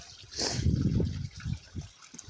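Water trickling from a peat bog into a stream in the Lajoux peatlands, a soft low gurgling flow with a brief hiss, close by and alone.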